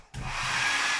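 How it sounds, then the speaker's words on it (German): A hair dryer switches on after a short quiet moment and blows with a steady, loud, broadband whoosh that holds until the end. "So, ich mache den Föhn mal einmal kurz an."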